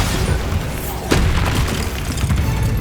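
A Bombarda explosion spell in Hogwarts Legacy lands as one sharp, booming blast partway through, set against continuous loud, rumbling game combat noise.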